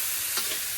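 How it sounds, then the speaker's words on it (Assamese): Pork sizzles in hot oil with a little salt in a wok, a steady close hiss of frying with a brief stir of the pieces partway through. "ভাজি আছোঁ"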